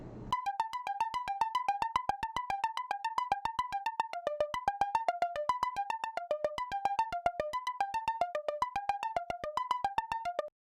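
A synthesized arpeggio sequence from a Pure Data patch, a rapid, evenly clocked stream of short plucked electronic tones stepping through a repeating melodic pattern with slight variations, steady and clean with no voices, ending abruptly.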